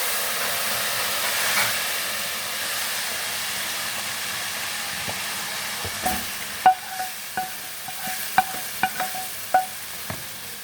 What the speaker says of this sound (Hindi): अब मैं इसमें डालने लगी बिस्मिल्लाह करके तड़का।